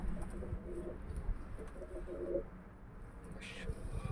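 Pigeons coo softly and repeatedly inside a crowded coop holding white, grey and Arab-type birds, low throaty calls overlapping against a steady background murmur.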